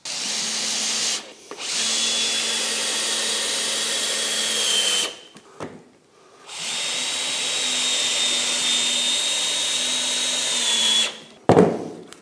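A power drill driving a couple of screws into a workpiece in a workshop: two long, steady whining runs with brief pauses between, close and loud, ending with a short click.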